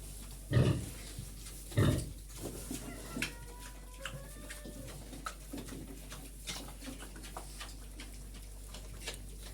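Two short, low piglet grunts near the start, then faint rustling, soft clicks and distant bird chirps in a quiet barn-like space, piglets under a heat lamp near a sow after farrowing.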